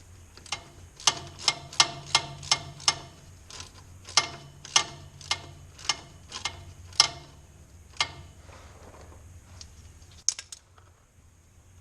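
A ratchet wrench clicks in sharp rhythmic bursts tightening a bolt on a Kubota fuel filter, about a dozen close metallic strokes with brief pauses, then a few scattered clinks; no speech.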